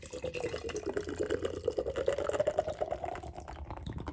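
Beer hard-poured into a glass, a continuous gushing, rising fill stream with foamy splashing that climbs in pitch as the glass fills over about four seconds, close and steady with no talking.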